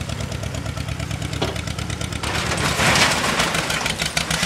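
A Farmall 400 tractor engine runs with a steady low throb, pushing over a trailer nearby; the note swells a little midway as the engine works harder, with no talk.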